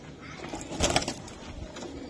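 A young racing pigeon at a pigeon club gives a short burst of cooing and wing flutter up close, loudest for a moment mid-clip against a low background hum.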